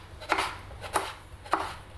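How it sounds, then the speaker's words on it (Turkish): Tomatoes being cut with a knife on a board: three sharp, evenly spaced chops about half a second apart, close and clear over quiet kitchen background. "Şimdi domateslerimin hepsini bu şekilde doğruyorum."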